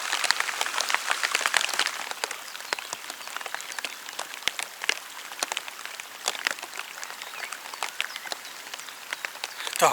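Steady rain patters on a surface, dense crackling drops with sharper close hits scattered throughout, no voices.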